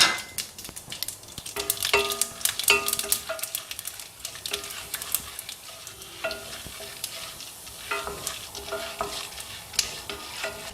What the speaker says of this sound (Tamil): இப்போ பாருங்க எண்ணெய் சூடாயிருச்சுங்க. அதில் நம்ம கடுகை போட்டுக்கலாம்.